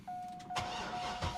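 A C6 Corvette with heads, cam, E85 fuel, Corsa Extreme exhaust and a cat delete cold-starts: a thin starter whine, then the engine catches with a sudden loud roar and rumbling idle up close.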